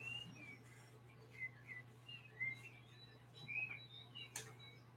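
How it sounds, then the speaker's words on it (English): Birds chirp in short, high, scattered calls, a dozen or so quick whistled notes at irregular intervals, faint over a steady low hum. "I missed the sound of birds for a long time."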